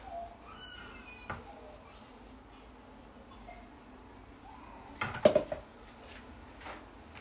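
A faint, short cat meow rises briefly near the start over quiet room noise on a live stream, followed later by a louder burst of clattering.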